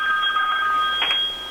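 Indoor telephone ringing with a steady electronic tone through the whole stretch, close and fairly loud, with a brief brighter burst partway through and no talk over it.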